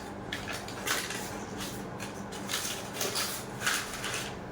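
Bowls being handled and stacked one inside another, with several light clinks and knocks spread out in an uneven rhythm, close by and without talk.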